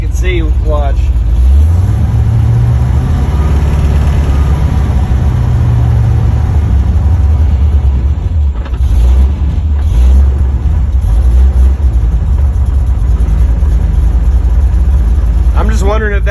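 Car engine, loud and close, in a shop: it revs up with the throttle in slow swells, then settles back toward a steady rumbling idle, with someone talking over it throughout.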